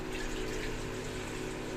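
Water from a pump or tap pours steadily into a cooking pot for two portions of noodles, a continuous, close gushing rush with no pauses and no talking.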